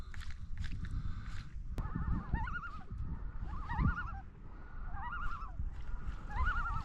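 Several loons calling across a lake during a bass fishing trip, with repeated wavering tremolo calls rising and falling at moderate distance over a steady background of water and boat noise, no talking.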